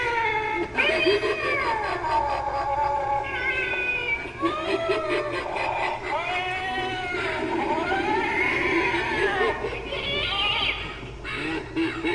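An animatronic Halloween cat decoration gives a string of drawn-out, warbling electronic meows and yowls, loud and close, with brief pauses between calls.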